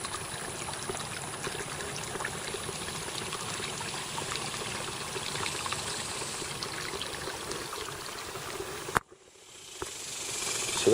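Rainwater running through a creekbed that leads into woods, a steady broadband trickling and streaming flow heard close by for about nine seconds, then cutting out abruptly to near silence before faint flowing noise rises again.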